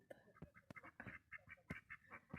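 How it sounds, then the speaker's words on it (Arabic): Ducks quack at a rural farm in the countryside with a series of close, raspy calls in an uneven rhythm, interspersed with short sharp knocks, fairly faint overall. "شوفوا هنا كاين البط"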